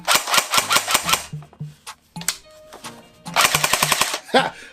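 JG Star Dragon airsoft gun fires in two rapid bursts of closely spaced, loud cracking shots separated by a short pause, with faint mechanical clicks in between.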